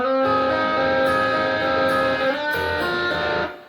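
A melodic electric guitar riff from a song plays several sustained notes in sequence, with a brief change partway through, then fades out.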